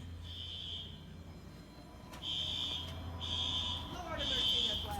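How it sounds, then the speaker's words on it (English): Fire alarm at an elementary school sounding in repeated loud electronic buzzing bursts, a long tone followed by several shorter pulses, with a low steady hum beneath and faint voices in the background. "Sorry, I'm just recording the fire alarms, that's all."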